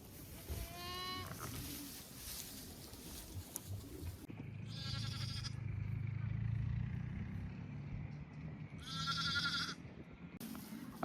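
Sheep bleat from pens in a lambing shed, two clear bleats a few seconds apart, over a steady low hum and rustle.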